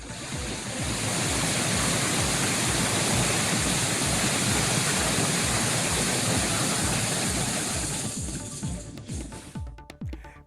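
Floodwater surges through a river near Pune after twelve hours of torrential rain and increased discharge from Khadakwasla dam, a loud, steady roar of rushing water that holds for several seconds, then breaks up and fades near the end.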